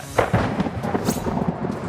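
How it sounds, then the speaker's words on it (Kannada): Heavy monsoon rain with rolling thunder in Karnataka's Malenadu hill region, a dense, steady roar with deep rumbles that swell and fade throughout. "ಮಲೆನಾಡಲ್ಲಿ ಮಳೆಯ ಆರ್ಭಟ ಜೋರಾಗಿದೆ"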